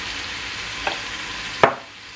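Food sizzles steadily in seasoned oil during bulk cooking for a large family, and two sharp scraping stirs of a utensil cut through the frying hiss before it quietens slightly.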